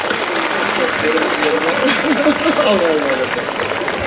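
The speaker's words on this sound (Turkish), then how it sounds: "Bir kez daha alkışlayalım Sayın Başkanımızı" A crowd at an outdoor Circassian cultural festival in Uzunyayla applauds the mayor, a dense, loud, continuous wash of clapping with a voice speaking over it.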